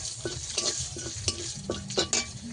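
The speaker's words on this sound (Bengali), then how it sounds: "কালো জিরে ভালো করে ভাজা হয়ে গেছে" Nigella seeds and dry red chilli sizzle in hot oil in a pan, a close, steady crackle broken by several short scraping strokes of a stirring spoon.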